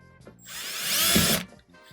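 A power drill bores a hole while building a BB trap, one close, loud whirring burst of about a second that rises and stops abruptly, with no talk.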